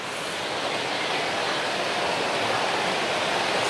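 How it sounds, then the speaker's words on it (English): A waterfall pours over rock lips in a dense, steady, close rushing roar that fills the whole span evenly, with no voices. "the water comes down, if you like, into the seat of a chair and then down again"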